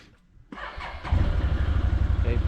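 An off-road vehicle's engine cranks briefly and catches, then settles into a loud, steady, pulsing idle close by, with no talk over it.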